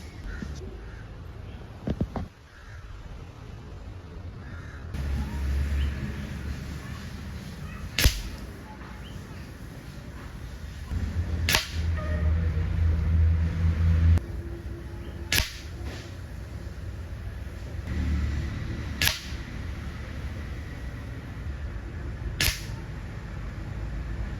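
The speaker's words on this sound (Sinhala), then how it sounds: "දැන් අපි ඇත්තටම ෂූට් කරේ ස්නෝ පීක් හොලෝ පොයින්ට් පෙලට් එකෙන්." An air rifle fires Snow Peak hollow point pellets at a target 25 yards away, with about six sharp, loud cracks spaced several seconds apart over a quiet outdoor background.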